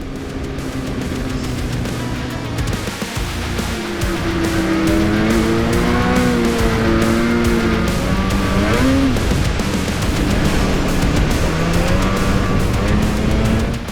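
A Polaris Switchback Assault snowmobile, 9R or Boost, runs loud and close along a snowy trail, its engine droning steadily with pitch rising and falling as the throttle swells.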